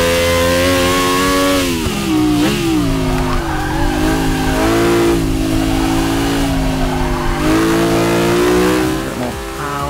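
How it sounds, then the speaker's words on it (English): A car engine in the racing game Forza Motorsport 6 revs hard and loud without a break, its pitch climbing and dipping as the throttle is squeezed and eased. "I love how much this revs up because it means it's got the absolute beast of an acceleration"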